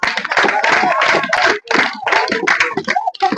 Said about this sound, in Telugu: అమ్మా అందరూ గట్టి కొట్టండి క్లాప్స్